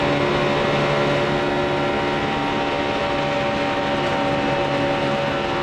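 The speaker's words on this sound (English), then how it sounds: "you could hear how Jimmy had to back out right there" Loud, steady roar of NASCAR stock car engines racing at Talladega in the 2011 Good Sam Club 500, a dense continuous drone with a sustained engine hum and no voices.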